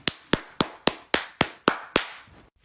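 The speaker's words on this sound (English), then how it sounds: "Let's give a round of applause to America" Eight sharp, evenly spaced claps from a single pair of hands ring out close and loud, slowing slightly and fading into a softer final clap.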